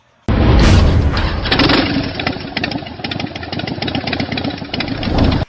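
A 2020 Harley-Davidson Road Glide motorcycle engine starts abruptly and runs at a loud, close idle, a steady deep lumpy rumble with pulsing beats that holds for several seconds before cutting off sharply.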